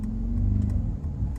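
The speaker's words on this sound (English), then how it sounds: "the exhaust did get a little bit louder" A Mercedes-AMG G63 with V8 and side exhaust running in Sport Plus mode gives a deep, steady low engine rumble close by, with a slight swell in the middle and no speech.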